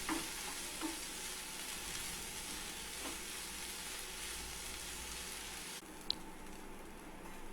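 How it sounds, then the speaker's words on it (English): Finely chopped onion with a little salt sautés in oil in a pan, giving a steady, even sizzle throughout, close and moderately quiet, with a faint stirring scrape now and then. "Add a little salt and saute till it turns light brown."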